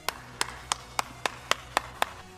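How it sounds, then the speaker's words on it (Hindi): Eight crisp hand claps land at an even, brisk pace, each sharp and isolated against a quiet background. "चलो इसी बात पर ठोको ताली"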